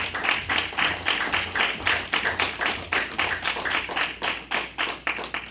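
A congregation at a Spanish-language church service claps in unison, loud and close, a rapid regular beat of sharp hand claps sustained throughout.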